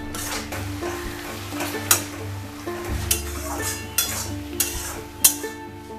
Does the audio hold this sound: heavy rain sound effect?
no